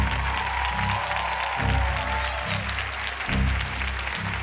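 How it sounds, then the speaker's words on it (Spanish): Studio audience applause on a Spanish television singing show, a steady dense clapping with low background sounds or voices pulsing beneath it throughout. "Un aplauso para ellos."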